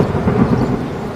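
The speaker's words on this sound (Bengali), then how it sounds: "এত জোরে ঝড় বৃষ্টি হচ্ছে," Thunder rumbles through a stormy scene in an animated film, a brief low, dense roar that swells slightly and then holds steady without any voices.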